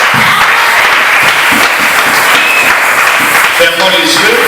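Church congregation clapping in praise during a French-language worship service, a steady dense applause filling the whole stretch with voices mixed in and a brief sung or spoken tone near the end.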